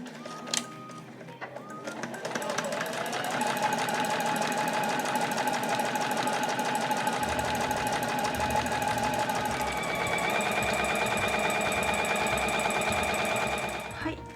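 Sewing machine running a seam on a tote bag, a steady fast mechanical whir lasting the whole stretch, close and even, with a few clicks at the start.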